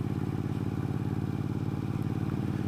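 Bobber motorcycle cruising over the intercoastal bridge, its engine a steady, rhythmic low thrum with constant wind and road rush, close and continuous with no talk.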